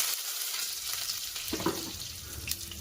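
Garlic and curry leaves, added with a little fenugreek, fry softly in a hot pan for a home-cooked Kerala-style lunch. A low, steady sizzle is heard with a few light clinks and stirs, and no one speaks.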